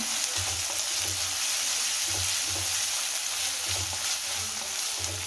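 Vegetables and onion for veg hakka noodles sizzle loudly in a hot pan, with a steady frying hiss and rhythmic scraping stirs repeating about every second, close up and without talk.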